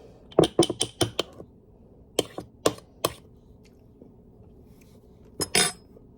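A spoon clinks and scrapes against the bottom of a container while mixing chocolate banana overnight oats. Sharp, irregular metallic taps come in quick clusters, separated by quiet gaps, with a longer scrape near the end.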